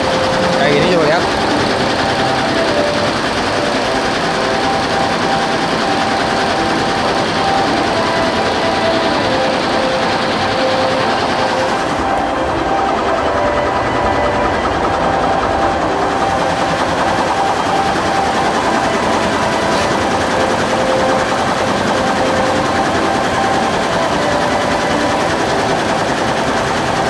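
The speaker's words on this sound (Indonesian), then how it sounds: "Ini adalah proses bordir membuat logo bus Damri dari Bandung" A computerized embroidery machine stitches a Damri bus logo from Bandung, a steady loud mechanical whir with rapid needle chatter running continuously, with talk over it.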